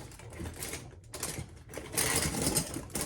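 Metal ice screws clatter as they are dropped one after another into the centre of an ice screw cannon, a close, busy rattling and clinking throughout.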